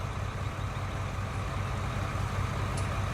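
A tractor engine idles steadily in Farming Simulator 19, a low continuous rumble at moderate level with no talking over it.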